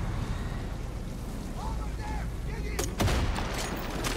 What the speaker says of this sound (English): I'm using the old grenades. They're pretty useful.